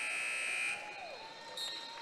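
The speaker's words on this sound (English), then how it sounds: "that's going to do it as the buzzer will sound." A basketball game-end buzzer at a finals game blares as a loud, sustained electronic tone and then cuts off, leaving the echoing noise of the gym and crowd.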